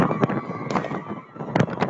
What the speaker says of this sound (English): They are firing shots.